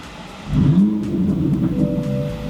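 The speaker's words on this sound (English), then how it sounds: "So I'm gonna dyno the car." A Corvette ZR1 fitted with a Boostlogic exhaust revs on a dyno: a sudden loud engine rise after a quiet idle, then a sustained deep drone holding near and steady.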